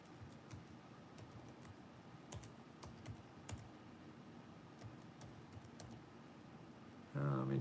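Computer keyboard typing in a quiet room, a steady run of soft, close key clicks with occasional louder strikes, ending in a brief louder noise.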